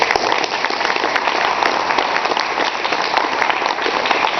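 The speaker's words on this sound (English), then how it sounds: "So, just give a round of applause for this guy." A large audience at an anime convention's closing ceremony gives sustained applause, dense and loud, a continuous even roar of many hands clapping with no voices standing out.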